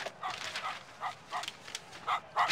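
Dog barking in the Horsez horse-riding video game, a series of short, moderately faint barks repeating at irregular intervals over a quiet background.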